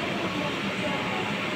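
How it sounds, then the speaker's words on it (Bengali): A metro train pulls in at Howrah metro station in Kolkata, giving a steady, close, broadband rumble of wheels and motors that holds at an even level through the short moment. "দেখতেই পাচ্ছ মেট্রোটা ঘুরে চলে এসছে, এবার মেট্রোটা দাঁড়িয়ে গেছে"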